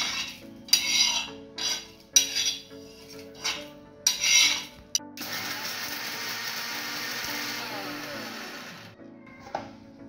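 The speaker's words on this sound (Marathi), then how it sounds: "मिक्सरमध्ये कट करू." A mixer grinder jar holding gas-roasted onion and roasted coconut pieces rattles in several short, loud pulses, then settles into a sustained whirring grind for a few seconds before stopping.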